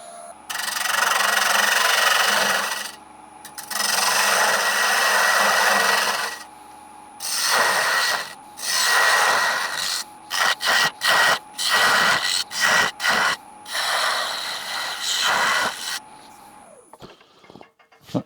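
Wood lathe turning a small scrap piece with the tailstock brought up for support, cutting down into ridges: loud broadband tool-on-wood scraping in several long passes, then a run of short rapid cuts with brief pauses, no talking.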